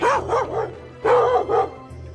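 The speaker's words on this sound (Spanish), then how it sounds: "perros que nos ladran al pasar" Dogs bark at people walking along a railway track, two short pairs of close barks about a second apart, with nothing else heard.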